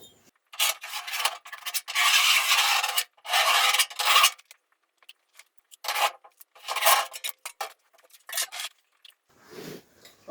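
A scribe scratches a cutting line into the front wing metal of a Ford Escort MK1 under restoration, producing bursts of harsh rasping strokes, some long and some short, close and loud, with pauses between them.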